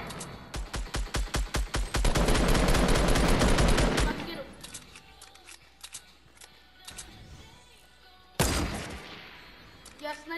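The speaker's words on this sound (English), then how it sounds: "Yeah, I sniped the dude." Rapid gunfire in the video game Fortnite, a fast burst of repeated shots followed by a dense stretch of firing, then scattered quieter shots and one more loud blast near the end, with a voice talking faintly at times.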